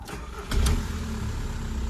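A car engine cranks and catches after an oil change, then settles into a steady idle. The start is brief and fairly close, with no talk over it.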